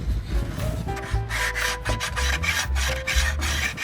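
Hand sanding of cedar wood from a fence plank: close, rasping strokes repeat in a quick, even rhythm with short gaps between passes, no voices present.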